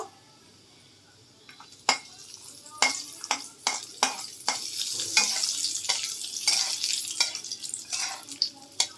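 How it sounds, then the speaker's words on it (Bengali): Peanuts frying in oil in a wok (kadai), a steady sizzle broken by sharp scraping and clinking stirs from a spatula against the pan, close and fairly loud, with no speech. "চিনে বাদামটা ভাজা ভাজা করব।"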